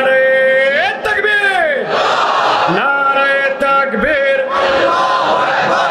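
A large crowd at an Islamic religious gathering (waz mahfil) in Bogura, Bangladesh answers the Nara-e Takbir call with loud, sustained collective chanting in long swelling waves, with a leader's amplified voice carrying over them.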